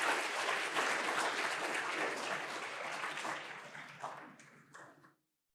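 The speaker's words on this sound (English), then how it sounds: "Maybe just start clapping now so we don't have to waste his time as he joins the" Audience applause at a clean-energy panel event in California, a steady dense wash of clapping from many hands that holds for several seconds, then thins and fades out near the end; no talking.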